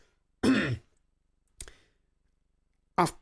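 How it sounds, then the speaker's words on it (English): A single cough followed by two shorter coughing bursts, spaced out with silence between them, close and fairly loud. "I'm going to cough."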